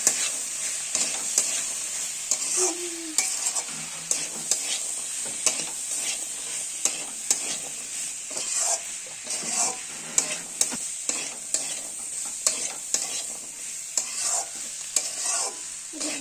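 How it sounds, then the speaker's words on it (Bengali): Boiled potatoes are stirred into frying chana masala, with a spoon scraping and knocking the pan in a steady rhythm over a soft sizzle, close and clear, without speech. "এরপর ভালো করে আমরা এটাকে মিশিয়ে নেব।"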